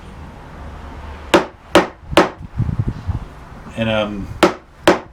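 Mallet blows on a chisel cutting a stop cut into wood for joinery, six or seven sharp close knocks spaced under a second apart, with a brief scraping rasp between and someone speaking briefly.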